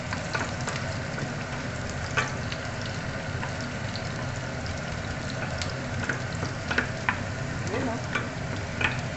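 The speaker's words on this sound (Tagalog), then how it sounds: "Dito muna tayo sa ating onions at garlic." Onions and garlic fry in a pan for a sayote-and-sardine sauté, giving a steady, dense sizzle with scattered crackles and pops throughout, while a voice briefly speaks a couple of words over it.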